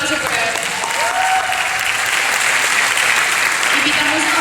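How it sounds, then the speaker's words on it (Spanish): A film festival audience applauds a guest, an indigenous documentary photographer, with dense, sustained clapping that holds loud and even throughout, with a brief tonal sound near the start. "Un aplauso para él."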